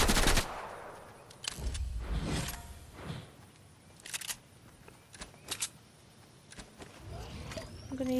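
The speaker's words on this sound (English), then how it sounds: "No, oh, I'm getting shot." Bursts of gunfire in Fortnite, with rapid sharp shots in short clusters separated by quieter gaps, fairly faint overall with a voice occasionally in between.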